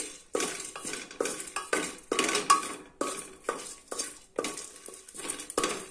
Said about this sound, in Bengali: এই মশলা উপকরণগুলো আমি একবারে দিয়ে ভেজে নেব।